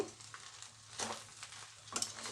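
Carrot rice gets mixed in a pan with soft, intermittent scraping strokes over a quiet sizzle, a couple of firmer scrapes standing out, heard close.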